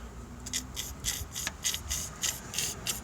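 Oil squelches out of a BMW M62TU V8 timing chain guide part as it is worked back and forth, a series of soft, rhythmic rasping pushes close to the mic.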